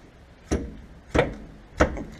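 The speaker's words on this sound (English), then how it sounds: "Just break the tension on the bolts." Wrench breaking loose the bolts on a 2004 Ford Territory rear lower trailing arm: three sharp metallic knocks, evenly spaced and close, in an otherwise quiet garage.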